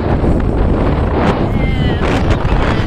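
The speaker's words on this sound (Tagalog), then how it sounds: "Mahangin, lakas ng hangin." Steady, heavy wind buffeting the microphone with a constant low rumble and roar, loud and close throughout.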